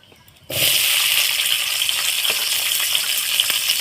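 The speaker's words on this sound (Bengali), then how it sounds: "দেখুন ক্যাপসিকামগুলো তারে একটু ভাজা হোক" Capsicum pieces hit hot refined oil in a pan for a chilli soybean dish, and a loud, steady sizzle starts abruptly after a brief quiet moment and keeps going close up.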